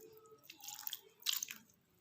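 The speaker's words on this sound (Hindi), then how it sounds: "अब मैं इसमें डाल रही हूँ इमली का पानी" Tamarind water poured into an aloo chole chana chaat mixture, two brief soft splashy drips, quiet and close.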